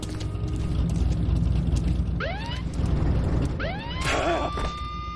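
Rising electronic police car siren wails sweep up a few times over a dense rumbling Silent Hill: Downpour game soundscape of engine noise and clatter.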